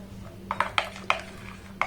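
Egg batter being mixed with a little added white oil in a bowl, heard as a handful of sharp spoon-on-bowl clinks and taps in an uneven rhythm, close and fairly quiet, with no talking.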